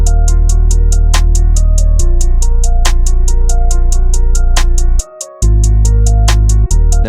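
A deep 808 sub bass pattern from a song remake pulses loudly alongside steady hi-hat ticks and melodic notes, with the bass dropping out briefly for a clean gap before returning.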